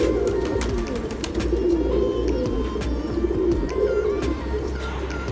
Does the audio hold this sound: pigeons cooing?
yes